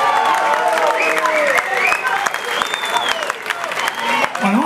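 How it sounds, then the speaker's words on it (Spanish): An audience applauds loudly and steadily, with cheers and voices mixed into the clapping. "Señor Sergio Berriche, un aplauso."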